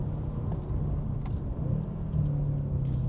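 A BMW F10 M5 Competition saloon cruises with its gearbox in the second fastest setting, a low, steady engine rumble with slight swells in throttle and tyre noise throughout.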